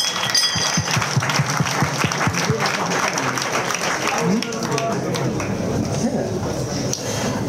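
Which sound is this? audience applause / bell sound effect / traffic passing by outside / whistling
audience applause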